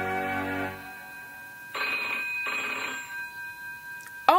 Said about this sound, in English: On the third day, the phone rang.